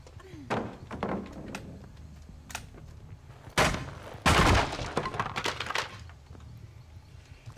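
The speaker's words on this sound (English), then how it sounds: "so they're letting off fireworks behind me." Fireworks set off outdoors on the 4th of July: several sharp bangs and crackling bursts, some near and loud, others fainter, arriving irregularly in clusters over steady background noise.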